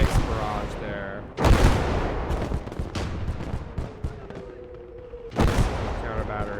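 Artillery barrage in the World War II strategy game Gates of Hell: heavy booming impacts and rumbling blasts land at intervals, two especially loud strikes standing out, while someone talks over the explosions.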